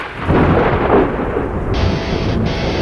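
Loud thunder rumbling with rain opening a sports radio show intro, a broad continuous roll that settles into steady rain-like hiss, no voices.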